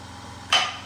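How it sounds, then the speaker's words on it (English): Scraping wheel weights off a Suzuki V-Strom motorcycle wheel, a single short, loud scrape that starts abruptly after a quiet pause. "Which means I shouldn't need these wheel weights that are on here. Scrape those off."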